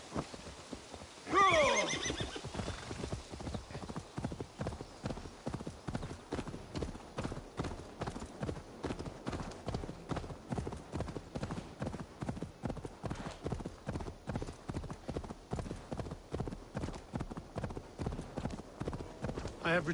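In the video game Assassin's Creed Valhalla, a horse whinnies once, then hooves gallop in a fast, steady clip-clop rhythm that continues for the rest of the stretch.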